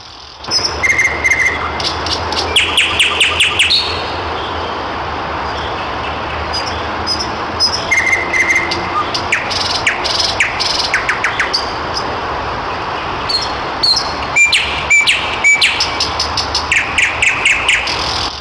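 A nightingale sings loudly and continuously in bright, repeated chirps and trills over a steady background hiss, with no voices.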